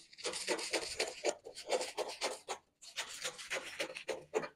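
Scissors or a blade trim the fabric edge of a bubu button-up shirt being sewn, a close, rhythmic rasping rub in steady strokes with one brief pause.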